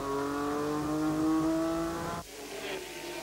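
A Porsche race car engine at Montlhéry circuit whines at high revs, then drops sharply as it brakes hard and shifts down four gears, settling into a lower rumble.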